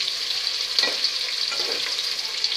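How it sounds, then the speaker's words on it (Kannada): Onions sizzle and crackle in hot oil for a mutton biryani, a steady, close frying hiss with small pops and no talking. "ಈರುಳ್ಳಿ ಚೆನ್ನಾಗಿ ಫ್ರೈ ಆಗ್ತಾ ಇದೆ."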